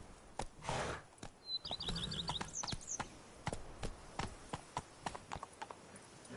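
In The Witcher 3: Blood and Wine, the horse Roach gallops in a quick, uneven run of hoof clops on hard ground, with a brief bird twitter rising in the middle and no talking.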